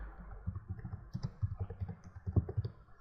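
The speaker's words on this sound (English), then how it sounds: "just type in anything" Fingers tapping on a computer keyboard in short, uneven bursts of soft clicks, close up and alone, with no one talking.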